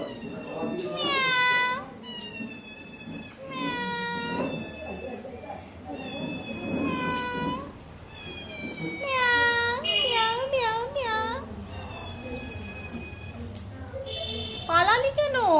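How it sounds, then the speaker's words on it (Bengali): A wet cat meows repeatedly and loudly close by in rising, drawn-out cries, with human voices talking and a voice mixed among the calls. "ওইটা তো ভিজে বেড়াল মনে হচ্ছে"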